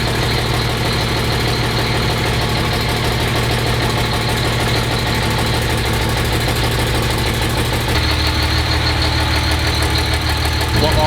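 A diesel engine idling steadily in a race car, loud and close, with a constant throbbing rumble and a slight shift in tone partway through.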